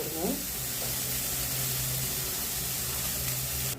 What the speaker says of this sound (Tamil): இப்போ வெங்காயம் ஓரளவு வதங்கிட்டுருக்குங்க